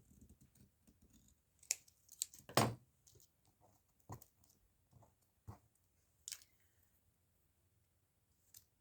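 Scissors trim a cardstock postcard closer to its edge, giving a few close, quiet snips and crisp cuts in irregular bursts with soft handling noises in between.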